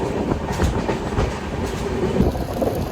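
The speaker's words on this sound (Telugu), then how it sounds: "మన ఫుల్ ట్రైన్ అనమాట." Passenger train rolling steadily along rails on the journey from Vijayawada to Rameswaram, a continuous dense rumble with faint rhythmic wheel clatter, heard from inside the carriage with no talk.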